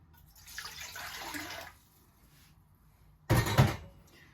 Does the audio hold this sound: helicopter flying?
no